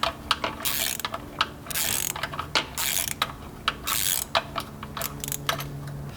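A ratchet on a 12-inch extension working BMW E93 328i oil pan bolts: quick clicking pawl bursts alternating with pauses, close up and clear.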